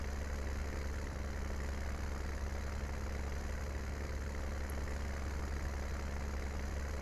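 A tractor engine idles in Farming Simulator 19, a steady low drone that runs without a break and stays close, with no talk over it.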